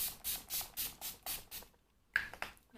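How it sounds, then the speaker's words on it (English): Setting spray misted onto a face during a date night makeup routine, a run of about six soft, quick pump sprays in steady rhythm, then a brief pause and a few rustling touches close to the microphone. "Then I'm going to spray the face"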